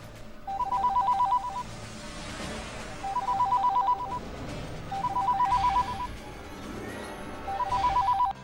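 A telephone rings in four separate bursts of rapid electronic trilling, each about a second long with pauses between, clear and nearby.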